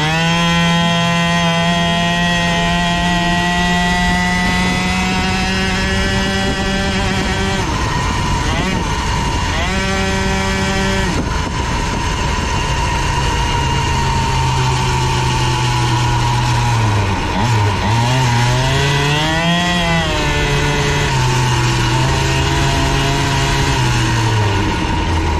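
An MBK Booster scooter fitted with an Airsal T6 65 kit and a Calusse exhaust runs loud and close for the whole stretch. Its raspy two-stroke buzz revs up and down, with sharp drops and rises in pitch.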